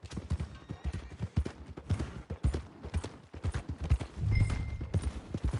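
Horse hooves clip-clop at an irregular walking pace in Red Dead Redemption 2, fairly close and prominent, with a short louder stretch of scuffing near the end.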